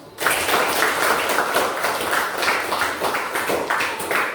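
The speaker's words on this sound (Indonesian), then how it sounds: "mari kita berikan aplaus" Applause from a class or group after a penguin dance activity, dense steady clapping of many hands at close range that runs the whole time without a pause.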